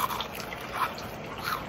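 Crispy crumbs of deep-fried fish crunch between the teeth in a few close, brittle bites spread over a short, quiet moment.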